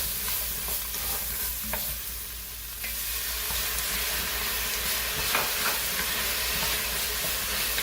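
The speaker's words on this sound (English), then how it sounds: "I'm going to use that to deglaze here" White wine vinegar is poured into a hot pan to deglaze it, giving a loud, steady sizzle and hiss with scattered crackles and occasional scraping from stirring, heard close and without talk.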